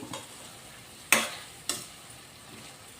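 Ingredients for a chutney stirred in a pan after frying, heard as two sharp scraping strokes a moment apart over a faint, steady background, with no voices.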